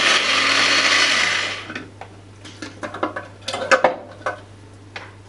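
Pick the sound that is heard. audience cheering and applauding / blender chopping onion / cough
blender chopping onion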